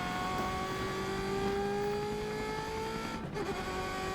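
A Ferrari Testarossa race car runs a quick qualifying lap, its engine holding a steady, sustained whine from start to finish, with a faint swell near the end as it pulls on.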